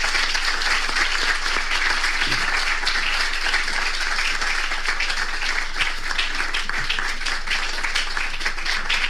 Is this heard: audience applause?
yes